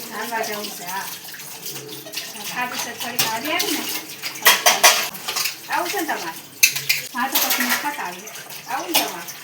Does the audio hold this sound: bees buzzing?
no